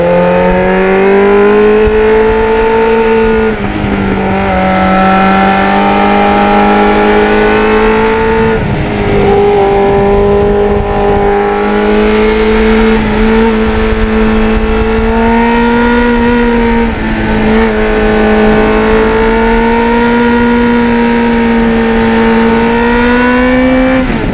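A 1989 Kawasaki Ninja GPX750R motorcycle engine pulls hard through a series of clutch gear shifts, its loud, steady whine climbing in pitch and then dropping briefly at each shift over wind noise, with no talk.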